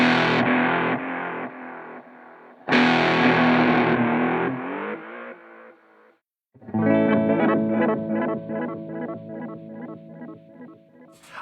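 Memphis EL-300 pitch shifter pedal with glide set fully clockwise: struck chords slide slowly between pitch intervals and decay, then after a brief gap a busier warbling, chorused passage follows at moderate loudness.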